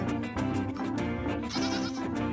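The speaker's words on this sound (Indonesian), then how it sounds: "Yang ini kambing teman-teman." A goat bleats loudly and continuously at close range, its wavering cry rising in pitch partway through.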